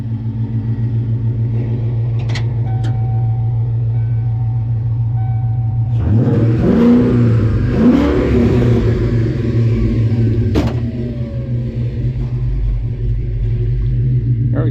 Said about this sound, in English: car starts up and runs and does all the things